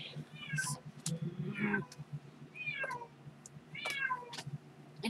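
A cat meows several times in short, rising calls spread across the moment, fairly close, over a low steady background hum with no talking.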